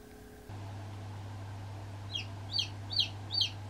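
Newly hatched chicks in a simple incubator: a steady low hum of the unit runs throughout, and four short high peeps arrive near the end, close and fairly clear.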